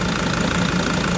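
A diesel vehicle idles steadily in cold weather, its engine giving a close, continuous low rumble with a faint knocking texture and no variation in pace.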